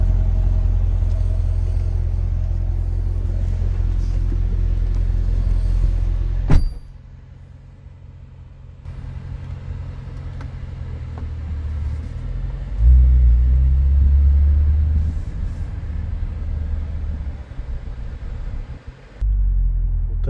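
A Chevrolet Corvette C8 drives with its roof open, and its engine gives a loud steady rumble that drops briefly, then swells again as it picks up speed.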